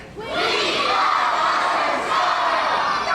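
After a brief quiet start, a big theme park show audience bursts into a louder, unified scream of many voices, holding a strong, sustained wall of shouting to the end.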